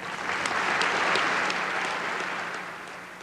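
Polite applause from assembled UN ambassadors, a steady even clapping that swells in the first second and fades slowly toward the end, heard alone without voices.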